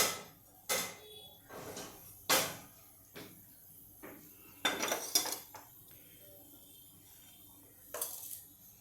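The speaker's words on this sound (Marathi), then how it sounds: "आपण दुसरी कढई ठेवूया" A metal cooking pan (kadhai) clanks and knocks as it is set down on the stove, several close, sharp bangs and rattles with short pauses between them.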